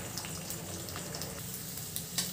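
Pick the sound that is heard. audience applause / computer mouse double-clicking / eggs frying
eggs frying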